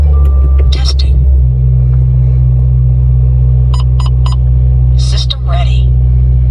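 Mitsubishi Evo engine idling steadily at its first startup after being rebuilt, a loud continuous low rumble with a few electronic chimes and a voice over the top.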